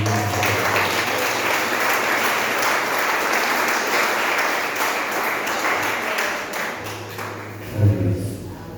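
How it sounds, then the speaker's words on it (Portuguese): At a Sunday church service, the congregation gives sustained applause to the Lord. Loud, dense clapping over a low hum fades toward the end, then a few stray sounds follow. "Você que pode aplaudir o Senhor"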